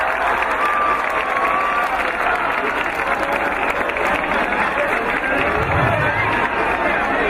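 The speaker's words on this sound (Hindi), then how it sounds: "आप लोगों से अनुरोध है कि जोरदार तालियों से आप स्वागत करें" An audience at a bhajan and youth event applauds to welcome a guest, a dense, steady wash of clapping from a large crowd that runs continuously, with faint chatter mixed in.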